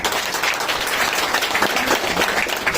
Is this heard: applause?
yes